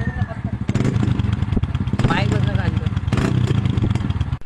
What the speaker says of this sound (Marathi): आपल्याला सायलेन्सरचा आवाज दाखवायला त्यासाठी आज व्हिडिओ काढला